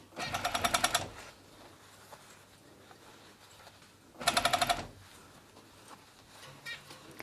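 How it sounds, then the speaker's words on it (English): An overlocker runs in two short rapid bursts of stitching while sewing ribbing cuffs onto a hoodie, close and fairly loud, with quiet handling sounds in the pause between. "as I sew, as I overlock, I slightly pull the ribbing slightly"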